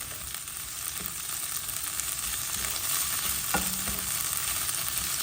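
Ground meat, a bolognese-style mix for palabok, sizzles steadily in a pan while being stirred, with a few scraping spoon knocks over the continuous frying hiss; no voices.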